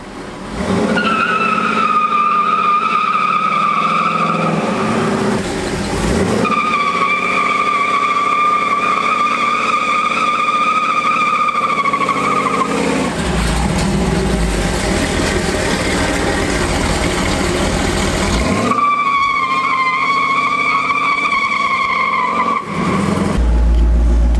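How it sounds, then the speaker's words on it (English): Loud, sustained tire squeal with a roaring engine during a standing two-wheel burnout, revving in long bursts with brief dips between, continuous for the whole stretch. "you do a standing burnout, and you really get them going, 2 wheels all the way"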